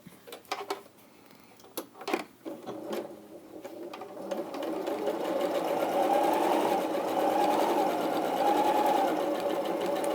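A sewing machine stitches fabric, its steady mechanical whirr building from a few short bursts into a continuous loud run for the rest of the stretch, with no voices.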